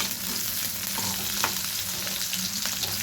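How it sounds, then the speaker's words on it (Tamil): Urad dal and onion sautéing in sesame oil with mustard seeds, a dense, close sizzle with soft crackles and a few light stirring taps, no voices. "உளுந்தம்பருப்பு, வெங்காயம் இது மட்டும் போட்டு நல்லா வதக்கிக்கணும்"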